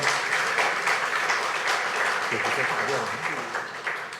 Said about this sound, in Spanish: Fuerte los aplausos entonces, por favor, en esta oportunidad.